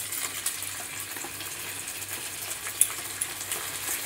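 Plain washed prawns sputter in hot oil in a pan for til chingri bhapa, a low, steady sizzle with a couple of small pops and no voices.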